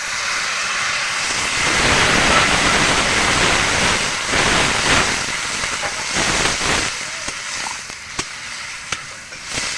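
Water poured into a hot pan of curry seasoned with red chilli powder hisses and sizzles loudly and steadily, a dense rushing steam noise that gradually thins out with a few clicks toward the end.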